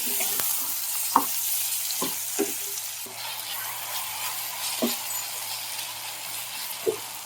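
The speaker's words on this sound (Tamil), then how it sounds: "இந்த தக்காளி எல்லாம் நல்லா ஸ்மாஷ் ஆகிற அளவுக்கு நல்லா வதக்கிக்கணும் இந்த எண்ணெயிலேயே" Two tomatoes and a green chilli sauté in oil in a pan with a continuous, even sizzle, broken by several distinct scraping knocks of a spatula stirring them, and no talking.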